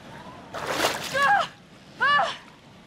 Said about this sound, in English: I don't want to walk through this water.